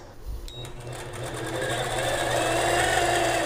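A sewing machine hums steadily while free-motion quilting a pebble design on a quilt top, its motor whir rising slightly and holding continuous and close throughout, with a few soft clicks at the start.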